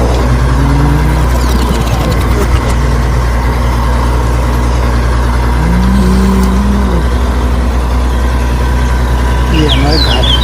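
Steady, loud idling engine drone from a homemade mini JCB model, continuous and close with a slight rise in pitch midway, while someone speaks over it.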